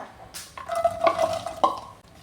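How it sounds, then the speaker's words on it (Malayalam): Okra (lady's finger) hits hot coconut oil in a pan for a masala curry. There is a brief sizzle with a few close metallic clinks and scrapes from stirring. "വെളിച്ചെണ്ണ ഒഴിച്ചു കൊടുക്കുക വെണ്ടയ്ക്ക ഒന്ന് ഫ്രൈ ചെയ്തെടുക്കുക"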